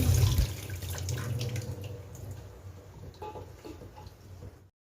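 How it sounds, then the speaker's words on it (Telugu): Running tap water splashes steadily over produce, with occasional clinks and shifts as items are turned under the stream; no voices. "ఒకసారి రన్నింగ్ వాటర్ కింద ఇలా క్లీన్ చేసుకోవడం"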